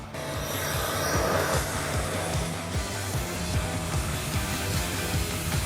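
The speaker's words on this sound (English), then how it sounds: "So let me grab the vacuum and see if I can't blow it out." A vacuum run in reverse as a blower clears bird nest debris from inside a long-parked aircraft, giving a steady loud airy whoosh with rhythmic rattling and scraping underneath, no talking.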